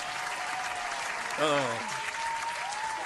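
Audience applause at a talk show taping, a broadband wash of clapping running throughout, with a voice rising briefly in the middle.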